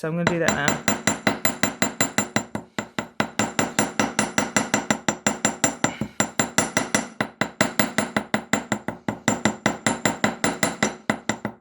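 Metal hammer strikes flattening wire for Celtic wirework jewellery, a steady rapid series of sharp bright taps ringing close up, with a brief spoken line at the start.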